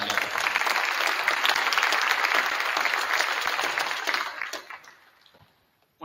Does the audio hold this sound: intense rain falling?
no